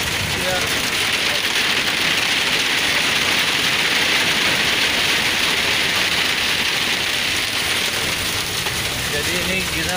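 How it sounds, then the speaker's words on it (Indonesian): Hail pelts a hard surface on a trip from Barcelona to Andorra in a loud, dense, unbroken roar of rapid impacts that holds steady for the full ten seconds. "Ini hujan es, guys."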